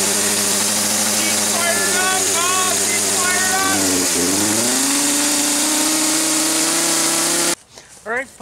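A chainsaw engine runs loud and close outdoors while carving Halloween pumpkins, its pitch rising and dipping as it revs, before cutting out abruptly near the end with voices following.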